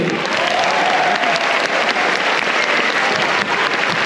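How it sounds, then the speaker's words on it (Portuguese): A concert audience at a tenors' show claps steadily, dense sustained applause filling the hall, loud and close, with no voices over it. "Queria pedir mais uma vez uma salva de palmas para todos vocês."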